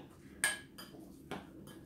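Beef belyashi filling with coriander and spices being mixed in a bowl: a few sharp utensil clinks against the bowl, spaced out and fairly quiet, with no talking.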